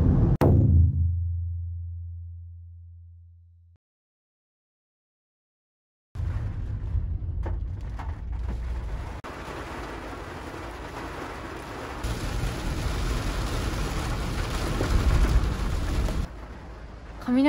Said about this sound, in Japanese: 雷と風がすごい